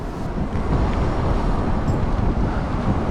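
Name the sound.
strong wind blowing at Manila Bay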